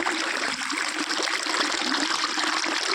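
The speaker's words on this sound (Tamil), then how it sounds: "அதனால் நான் ஃப்ரெஷ்ஷாக போய் கருவேப்பிலை பறிச்சிட்டு அப்படியே தண்ணியில் நல்லா அலசிட்டு" Freshly picked curry leaves are swished and rinsed in water, giving a continuous close splashing and trickling wash with no talk.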